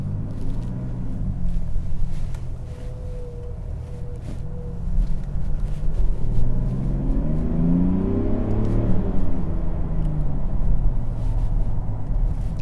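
Mercedes GLS 400d diesel SUV in sport mode with the sport exhaust package, a low engine rumble and exhaust drone that swells as it accelerates and then settles, heard steadily from inside the cabin.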